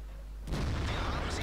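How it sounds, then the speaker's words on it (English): A tank shell bounces off the side of a turret in World of Tanks, a sudden sharp broadband impact followed by a sustained, rumbling roar of battle noise. "Unlucky there, bounced on the side of the turret"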